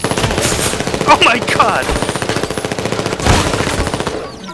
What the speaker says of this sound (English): Oh, he's got a gun!